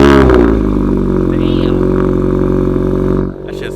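A small car's engine runs loud and close with a steady, throaty drone, then suddenly drops to a quieter idle near the end.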